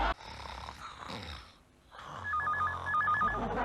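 An old landline telephone ringing with two short bursts of trilling electronic rings, heard close and clear in a Hindi family sitcom, after a moment of near silence.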